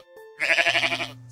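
A voice imitates a sheep bleating in a children's story about a duck on a bike, one wavering, pulsing bleat about a second long, close and clear, standing alone.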